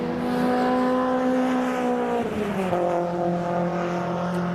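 Engines of MGCC race cars in the Cockshoot Cup race at a circuit roar loudly as they stream past, one car's pitch sweeping down as it goes by while others keep droning close behind.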